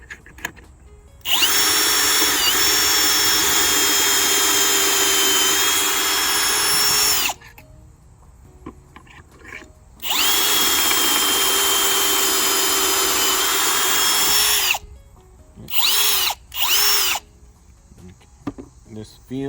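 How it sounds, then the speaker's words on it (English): A power drill drives screws through a Kreg K4 pocket hole jig clamped to a workbench, making loud, close, high whining runs of several seconds each, with pauses and two short bursts at the end. "So now when you put the screw in"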